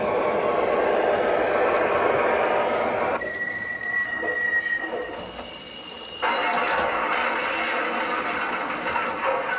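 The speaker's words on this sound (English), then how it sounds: "have the always fun train wreck sound" A rattling, clattering rumble of an O scale model train tumbling off its track, with a scraping squeal partway through and steady mechanical noise throughout.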